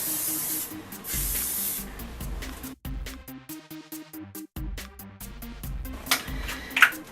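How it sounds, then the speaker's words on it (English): Conrad's hairspray hisses from a can in close, loud bursts, a long initial spray followed by shorter sprays, with music playing underneath. "I'm just gonna spray it. This is my favorite hairspray."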